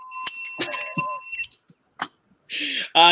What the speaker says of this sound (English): All right, hit the bell, KP.